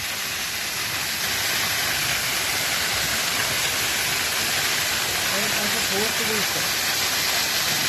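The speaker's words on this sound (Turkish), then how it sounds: "Dağların içinden akan müthiş soğuklukta bir su arkadaşlar." Steady broadband rush of cold natural spring water flowing down from the mountains at Maşukiye, Sakarya, Turkey, like a small waterfall pouring nearby, with a few voices briefly heard over it.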